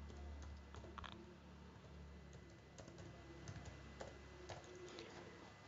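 Keys clatter on a computer keyboard as a file name is typed, a close, quiet run of irregular clicks and taps over faint room hum.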